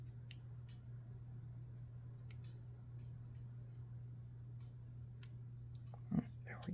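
Scissors fussy cutting paper for a card, heard as faint, sparse snips and small ticks, close but quiet over a steady low hum, with a slightly louder rustle near the end.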